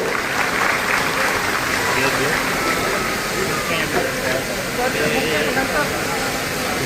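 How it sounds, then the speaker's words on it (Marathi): An audience applauds at the inauguration of the main office of Vardhaman Nagarik Sahakari Patsanstha credit society in Chhatrapati Sambhajinagar. The clapping is dense, loud and sustained, filling the room without a break, and a voice can be heard faintly beneath it. "हा टाळ्यांचा उरूप जो आहे तो थांबायला नको"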